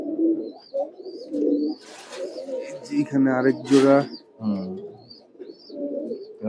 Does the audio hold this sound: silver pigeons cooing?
yes